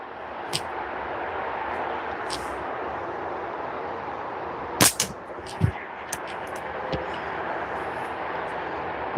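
Rifle shots fired at a target in steady rain: a few sharp, distant-sounding cracks spaced apart over a constant hiss of rainfall, with one tight pair of reports near the middle.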